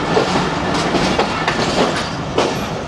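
Passenger train rail cars rolling through Lahore station, a loud, close, continuous rumble with rhythmic clickety-clack of wheels over rail joints.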